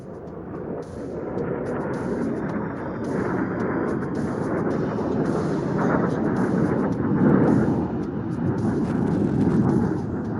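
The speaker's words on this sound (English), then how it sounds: "Look out for the Jaguars approaching from your right, flying low to avoid enemy's radar." Indian Air Force Jaguar jets fly low over a firepower demonstration range, a loud continuous roar with rumbling booms rising and swelling across the stretch, heard from a distance with a crowd present.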